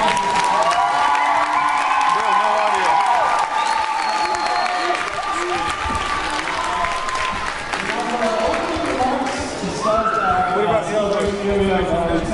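Applause and cheering from a crowd at a Star Spangled Music Day event, loud continuous clapping mixed with whoops and voices that dips briefly and then swells again.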